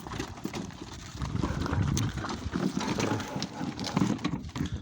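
Horse hooves clip-clop steadily at a walking pace, fairly close, with some wind buffeting the microphone.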